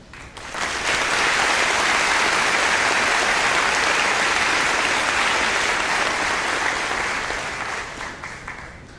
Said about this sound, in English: We now ask our fellow graduates and all of our guests to join us in applauding these professionals, our teachers